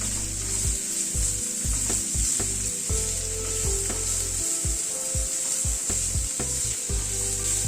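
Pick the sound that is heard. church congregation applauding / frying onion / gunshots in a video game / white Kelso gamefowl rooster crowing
frying onion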